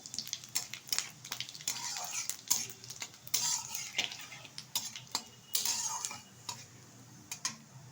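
A spatula scrapes and taps against a pan in irregular strokes, with a faint sizzle of five-spice mix and dried red chillies frying in oil between the clatter.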